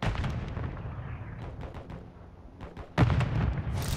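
Frag grenade blast in Modern Warfare 3 battle royale gameplay, a loud sudden boom near the end of the clip following a stretch of distant gunfire and rumbling combat noise.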